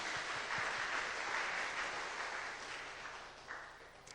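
A church congregation applauds after an infant baptism at a Sunday morning service, a steady, full patter of clapping that slowly softens, with a few sharper claps near the end.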